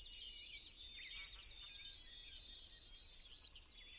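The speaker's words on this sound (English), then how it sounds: "And it's the call of the white-throated sparrow." A white-throated sparrow sings clear, pure whistled notes: two long held tones, then a run of shorter repeated ones, heard alone and close.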